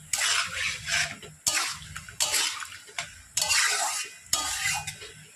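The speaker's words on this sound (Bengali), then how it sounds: "মাংস যখন সিদ্ধ হয় পরিমাণ মতো জল দিতে হবে।" Water poured into a pot of simmering chicken in several separate splashing gushes, each starting sharply and trailing off, with faint clinks of the pot, close and clear with no voices.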